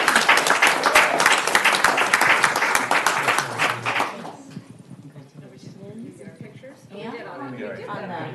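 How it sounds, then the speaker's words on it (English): A round of applause for a city commissioner at a council meeting, dense clapping for about four seconds that then cuts off, leaving quiet room sound and a voice speaking near the end. "One more round of applause."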